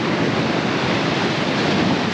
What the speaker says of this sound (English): It's gigantic, look at these waves.